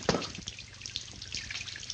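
Water runs steadily with a soft splashing trickle, fairly quiet and continuous, with a faint low hum underneath.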